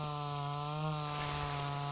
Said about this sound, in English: And I am going to chainsaw the hell out of everything.